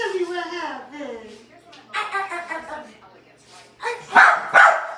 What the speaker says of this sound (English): She'll sit here and bark at herself in the mirror, thinking it's another dog.